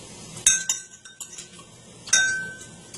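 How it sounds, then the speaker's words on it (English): A metal spoon stirs water in a glass during a home water test, ringing clinks against the glass at irregular intervals, close and clear, with a brighter strike near the end and no talk. "Okay, so I'll give this a little stir."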